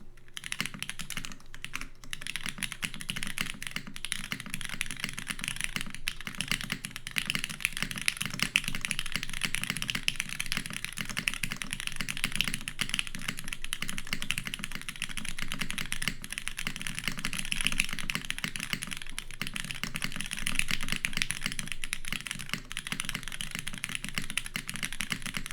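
Continuous typing on a TGR x SM Shi mechanical keyboard with blue switches, steady dense clacking keystrokes throughout, close and fairly loud, with no voices.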